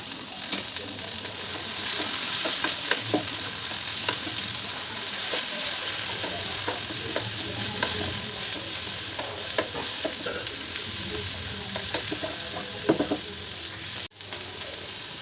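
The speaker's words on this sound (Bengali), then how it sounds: "ভেন্ডিটা আমার একটু ভাজা হয়ে এসেছে, এবার এর মধ্যে আমি পেঁয়াজ আর রসুন একসাথে বাটা সেটা দেব" Okra frying with a paste of ground onion and garlic, a loud continuous sizzle close by with frequent scraping and clicking as a spoon stirs the pan throughout.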